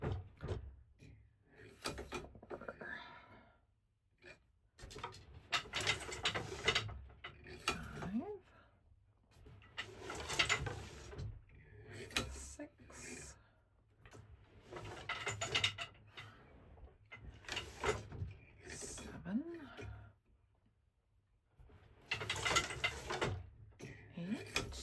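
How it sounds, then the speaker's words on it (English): A wooden treadle loom being worked to weave hems of cotton towels, with repeated knocking and clacking of treadles, shafts and beater in uneven bursts separated by short pauses, sounding close by. "For the hems, I'm just treadling the pattern."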